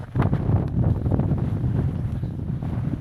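Gusty wind buffets the microphone with a constant low rumble during a riverside hike along the River Severn estuary, loud and close with no speech.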